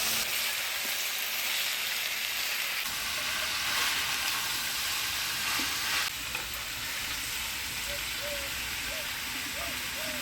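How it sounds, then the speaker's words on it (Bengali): Chopped bottle gourd fries with spices in a pan, giving an even, steady sizzle with light stirring throughout, plus faint tonal background sounds. "এবার কাটে রাখা লাউ দিয়ে দিচ্ছি।"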